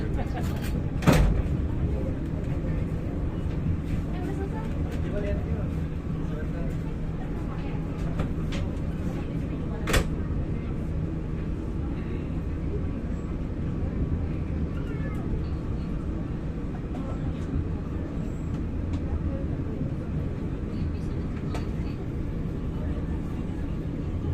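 The Cikuray passenger train runs straight through Jatinegara station without stopping, a sustained rumble of rolling cars with a few sharp clanks, heard close while people talk nearby.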